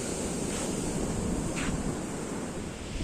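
Sea waves crash and surge steadily on Mullaitivu beach, a continuous loud roar of surf mixed with wind noise buffeting the microphone, with no voices.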